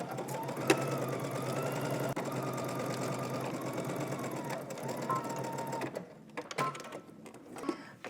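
A sewing machine runs one continuous stitch up a wrap dress seam at a 5/8-inch allowance, a steady close whirring hum for about six seconds before stopping, followed by a few short handling clicks and rustles.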